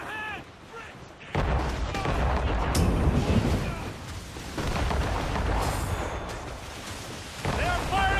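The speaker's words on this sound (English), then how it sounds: "They are firing a volley!" Cannon volley fired at a ship in the naval game Assassin's Creed Rogue, a dense roar of booming shots and rumbling blasts amid wind and sea noise, with shouted voices in the mix.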